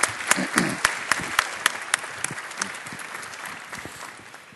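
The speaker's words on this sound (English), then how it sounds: "I'd like to thank everybody very much and our distinguished panelists, and I'd give them a round of applause." An audience at a sustainable-building panel gives the panelists a round of applause, a dense wash of clapping with a few sharp individual claps standing out, loud at first and thinning out as it dies away.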